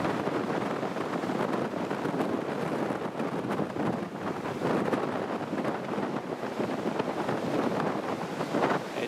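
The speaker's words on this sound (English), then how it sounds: "as you can tell, it's a little bit on the windy side" Storm Otto's strong wind roars and buffets steadily across an open airfield at Newcastle International Airport, a loud, continuous rush close to the microphone with no letup.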